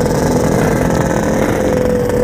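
A Yamaha RX King two-stroke motorcycle with a ported 150cc block runs hard at high speed, its engine a loud, continuous buzzing drone heard close up, with no voices over it.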